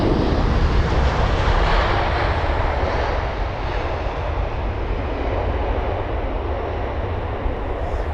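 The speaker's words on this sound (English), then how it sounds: "So Aeromexico that was, with a really, really nice arrival" An Aeromexico airliner arriving at London Heathrow on a sunny afternoon fills the clip with a loud, steady, broadband engine roar that holds almost level throughout, with no one talking.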